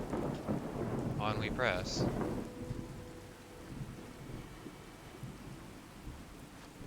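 Rainstorm with low rumbling thunder in Fallout 4 under the True Storms mod; someone speaks briefly at the start, then the steady downpour continues alone and slightly softer.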